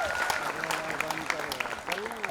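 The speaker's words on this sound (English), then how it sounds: "Big round of applause, ladies and gentlemen" Audience applause at a National College event in Bandra, a steady wash of clapping and crowd noise across the whole stretch with a voice talking over it.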